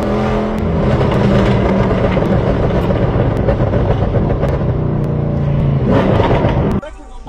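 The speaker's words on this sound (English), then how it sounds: "We got really loud motors over here, guys." A loud car engine roars at close range at a car show, revving hard for several seconds with sharp crackles, then cutting off abruptly near the end.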